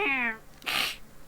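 Black cat giving a single clear meow that slides downward, followed by a short breathy burst like a sneeze or hiss, close and moderately loud.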